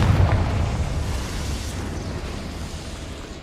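A Confringo blasting spell in the Hogwarts Legacy video game bursts in one loud, close explosion, then rumbles and fades over a few seconds.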